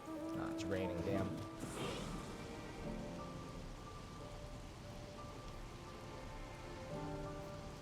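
Steady rain patters across surfaces in Final Fantasy XIV, a dense hiss with faint rumbling beneath it, mixed with sustained in-game music tones and fairly quiet overall.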